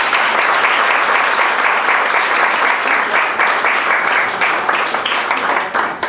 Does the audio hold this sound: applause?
yes